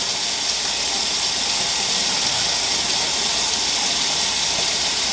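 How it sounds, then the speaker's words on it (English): A hatching egg being gently washed under a running tap, a steady close hiss of flowing water throughout with no pauses. "I get it wet and then I just gently wash the egg."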